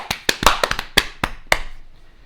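A live stream host claps about nine times close to the microphone, sharp individual hand claps in an uneven rhythm that thin out and stop near the end.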